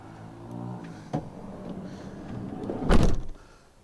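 A van's sliding side door, fitted with a stop to hold it where wanted, is released with a click and rolled along its track, ending in a louder rumbling slide and thud near the close.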